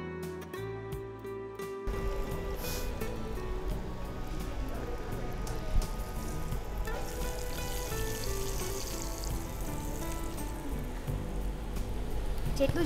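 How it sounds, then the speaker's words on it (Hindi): A cheese roll dropped into smoking-hot oil for deep frying: quiet at first, then a sudden, dense, bubbling sizzle that stays steady and close. "अभी हमारा ये रोल डीप फ्राइंग के लिए रेडी है। इसमें तेल भी बिल्कुल स्मोकिंग हॉट हो गया है, तो अब ये अच्छा टाइम है कि हम इसको डाल दें।"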